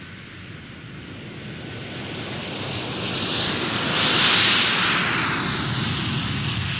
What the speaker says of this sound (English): That's a Comet 4.